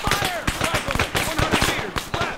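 Rapid, loud gunfire from the military shooter Arma, with dense volleys of sharp cracks and bursts while players shout over the firefight.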